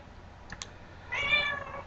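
Two short meows from pet cats sound close by in a quiet room, followed by a longer, louder drawn-out cry.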